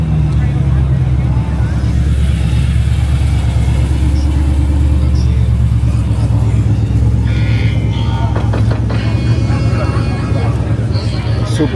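A supercharged right-hand-drive car engine rumbles loudly and steadily close by, with voices and crowd chatter over it and a few sharper bursts near the end.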